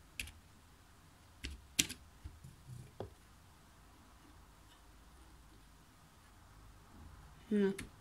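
A computer keyboard is used to type a command at a command prompt, a few scattered close key clicks with quiet gaps between, faint against a low background hum.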